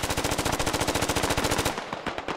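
Sustained automatic gunfire from a machine gun in the military shooter game Squad, a rapid, loud, steady burst of closely spaced shots that abruptly stops, leaving scattered fainter distant shots.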